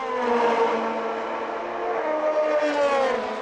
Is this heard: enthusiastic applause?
no